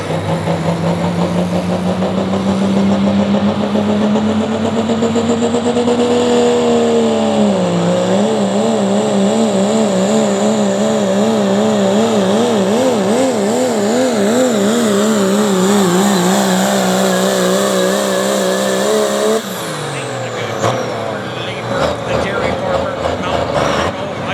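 A 1993 Dodge Ram diesel truck roars down the track at a truck pull, its engine droning loud and steady for about twenty seconds with rising and wavering pitch before cutting off abruptly, while an announcer talks over it.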